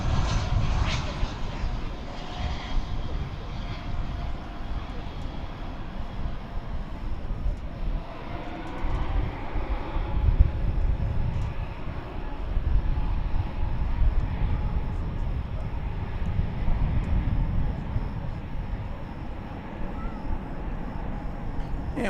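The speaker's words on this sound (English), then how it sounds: "Here comes Delta 1685 from Salt Lake City," Delta Airbus A319 jet arriving at DFW Airport, a continuous heavy engine roar and rumble that swells and fades over about twenty seconds, heard at a moderate distance outdoors with no talking.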